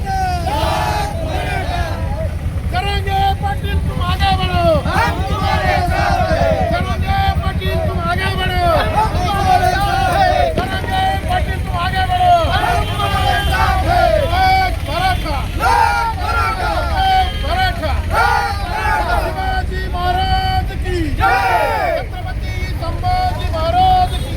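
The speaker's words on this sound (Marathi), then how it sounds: "आपण पाहू शकतो हा जल्लोष आहे श्री छत्रपती शिवाजी महाराज चौकामध्ये" Youths celebrate at Shri Chhatrapati Shivaji Maharaj Chowk in Kej after the reservation win. A dense, loud crowd shouts and cheers almost without a break, with rhythmic chanting cries over a steady rumble of street noise.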